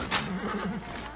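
In the video game Assassin's Creed Origins, a horse gives a short neigh over a soft, muffled game background, brief and moderately close.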